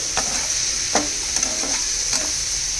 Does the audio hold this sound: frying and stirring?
yes